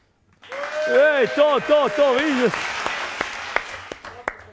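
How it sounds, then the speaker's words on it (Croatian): A few sharp, spontaneous claps ring out in a small room, scattered and uneven, following an excited, sing-song voice; a short spoken remark is also heard. "di aplauz spontani."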